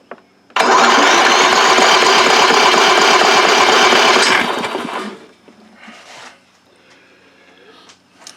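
A lawn mower engine cranks loudly with the key for about four seconds, a steady fast churning starter drone that does not catch, then trails off into quieter handling noises.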